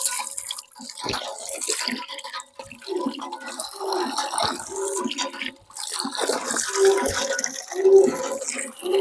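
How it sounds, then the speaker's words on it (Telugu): Borewell water from a remote forest tribal village poured for drinking, an irregular splashing and trickling stream with small gurgles and drips, close and moderately loud over a quiet outdoor background. "మనం ఈ నీళ్ళు అయితే ఒకసారి తాగి చూద్దాం ఎలా ఉన్నాయో."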